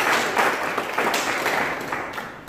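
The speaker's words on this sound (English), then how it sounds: "Clap for that." Church congregation clapping together in a steady, moderately loud burst of applause with rhythmic hand claps, heard from within the crowd.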